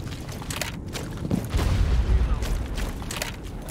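A grenade detonates in the tactical shooter Rainbow Six Siege, a heavy low boom that swells and rumbles for about a second amid faint game noise and scattered clicks.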